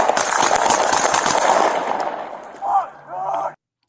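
Gunfire rings out in camera footage, a sustained loud, harsh burst of shots followed by a couple of shorter blasts before cutting to silence.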